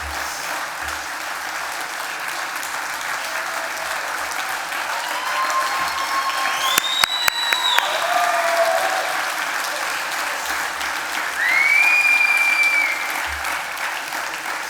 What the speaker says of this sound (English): I was going to say give them a round of applause, but I think you've done a really good job at that